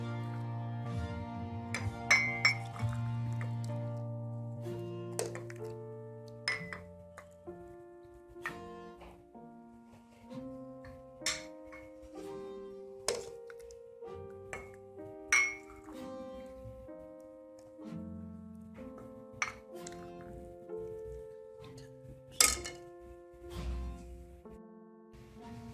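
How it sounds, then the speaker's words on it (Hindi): Kashmiri pink tea, cooked with kahwa, pistachios, almonds and sugar, is served into cups amid scattered light clinks and taps of cups and utensils, close and sparse, over a gently sustained musical tone. "अब हम इसको कप में डाल देते हैं।"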